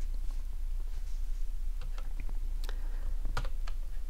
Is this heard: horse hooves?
no